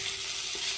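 Potatoes frying for aloo bhaji in a pan, a soft steady sizzle with a faint continuous hiss, close and quiet, no voices.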